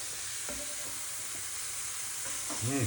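Morel mushrooms sauté in a pan at home, a steady close sizzle with light stirring and a short voiced sound near the end.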